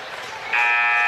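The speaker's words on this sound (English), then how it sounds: "there's the final buzzer" The final buzzer sounds at a high school basketball game, a loud sustained electronic tone starting abruptly midway and holding steady to the end over arena background noise.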